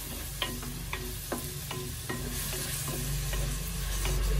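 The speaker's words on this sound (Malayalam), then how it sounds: "ഉള്ളി നന്നായിട്ട് മൂത്തിട്ടുണ്ട് ഇനി തക്കാളിയും കൂടെ ഇട്ട് കൊടുക്കാം" Onion and tomato frying in oil for a mackerel chilli curry, a steady sizzle under evenly spaced scraping stirs that grows slightly louder toward the end.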